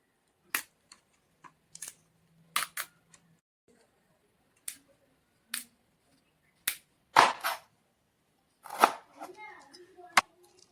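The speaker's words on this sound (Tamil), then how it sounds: "ப்ரொக்கோலி வெட்டி எடுத்துருவோம்." Sharp, separate snipping and cutting clicks as broccoli is cut, spaced irregularly over quiet background, some close and crisp, with a few louder rustling crunches.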